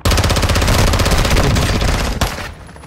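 Rapid automatic gunfire in the Call of Duty video game, a loud sustained burst of closely spaced shots that rattles on for over two seconds before cutting off and tailing into a brief echo.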